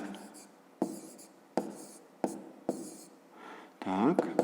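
A pen writes the answer to a fifth-grade math exercise on paper, with several quiet, close strokes that each begin with a tap. A voice comes in briefly at the end.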